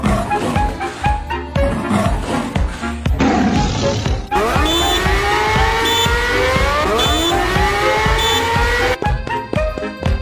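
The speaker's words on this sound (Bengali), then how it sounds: "বাঘ মামা গাড়ি অ্যাক্সিডেন্ট করে ফেলে" Cartoon car with a tiger character at the wheel, engine revving and tires squealing in long rising whines, then crashing among loud effects and music-like hits, busy and close throughout.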